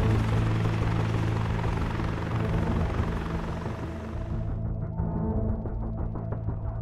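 A helicopter arrives at a landing zone in the military game Arma 3, its loud rotor roar and engine rumble filling the air, then turning duller and lower as it draws in.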